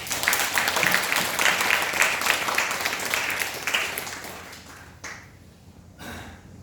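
An audience claps together at a Buddhist dharma gathering, with dense, sustained applause that dies away around the fifth second and leaves a couple of faint shuffles.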